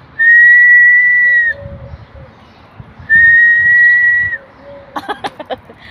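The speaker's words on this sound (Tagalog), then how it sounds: "Kailangan nating sumipol." A person whistles two long, steady, piercing notes, loud and close, separated by a short pause, followed by a few brief clicking sounds.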